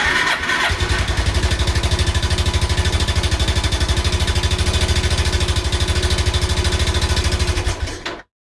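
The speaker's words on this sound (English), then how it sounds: "the thing that made the best noise was my Suzuki GN250 motorbike" Suzuki GN250 motorbike engine starting up and settling into a loud, steady, rapidly pulsing idle heard up close, running for several seconds before cutting off abruptly.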